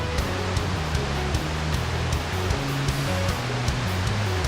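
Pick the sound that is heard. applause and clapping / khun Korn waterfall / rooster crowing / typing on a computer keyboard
khun Korn waterfall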